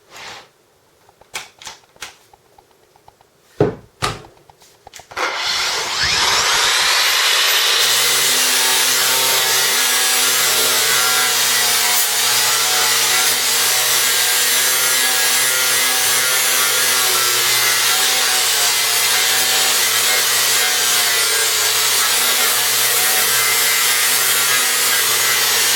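Festool AGC 18 cordless angle grinder gives a few sharp clicks and handling knocks, then spins up into a loud, steady, high-pitched whine that runs on unbroken and close.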